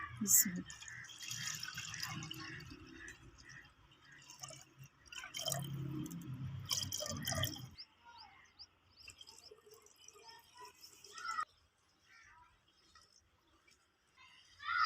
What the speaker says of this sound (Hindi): ये 1 लीटर दूध है, ये मैं इसमें डाल दूंगी।